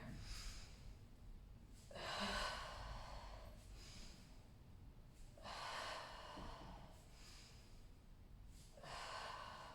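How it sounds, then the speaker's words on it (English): Audible breathing during a mat exercise class, with slow inhales and exhales in regular long cycles, about three strong breaths, close and soft, with no talk. "Inhaling on one side, exhaling on the other."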